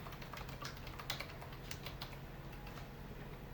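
Keystrokes on a computer keyboard during accounting data entry, a quick irregular run of light clicks over a steady background hum, close and fairly quiet with no talking.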